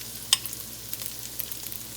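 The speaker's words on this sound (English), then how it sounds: "I just have some ground pork here that I'm frying up" Ground pork fries in a pan with a steady, soft sizzle, broken by a few crisp pops and light scrapes of stirring, close by with no talking.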